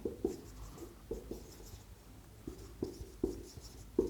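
A pen scratching across paper while solving an algebra problem, with short irregular strokes and taps in quick bursts, close and quiet, and no talk.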